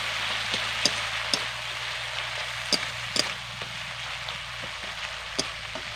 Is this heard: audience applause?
no